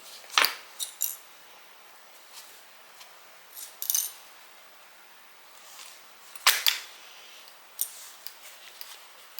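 Metal clips snapping onto stacked leather pieces for a bag project, a few sharp, close clicks spaced several seconds apart, with softer handling noises between them and no talking.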